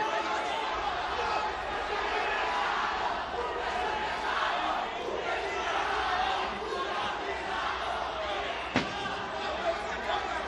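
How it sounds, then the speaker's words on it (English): A crowd at a live combat fight event in Brazil roars steadily through the whole stretch, a dense continuous din with voices over it and a sharp slam near the end. "You can tell the crowd's getting into it."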